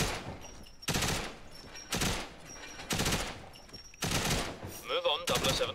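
Automatic AK Sigmus 9, an MP5-style submachine gun, firing in GoldenEye Reloaded: five loud, close bursts about a second apart, each a dense rattle of shots, with brief quieter gaps between.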